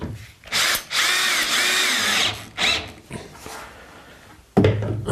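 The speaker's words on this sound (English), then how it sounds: "And these I'm just going to screw in place." A Bosch power drill drives screws into the roof panels of a wooden chicken coop in several close, loud bursts of whirring motor, with short pauses and faint knocks between them.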